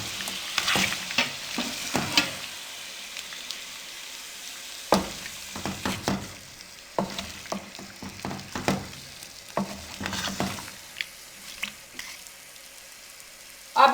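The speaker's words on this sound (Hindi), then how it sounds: "अब इनको हम अच्छे से मिक्स कर लेंगे।" Finely chopped tomatoes stirred in a pan for chicken karahi, with a soft sizzle under irregular scraping strokes of the spoon, some sharp and close, others lighter, with pauses between them and no talking.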